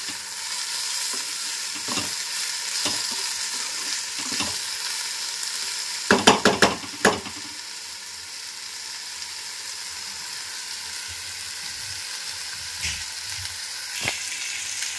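Green chillies sizzle steadily in a pan alongside potatoes, with a constant close frying hiss and a quick burst of sharp spoon-against-pan clicks partway through.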